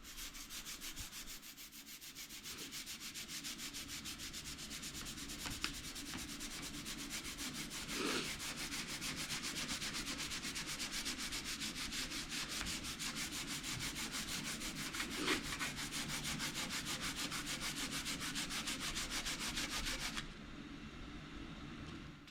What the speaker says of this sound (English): So we'll sand on this cowl right here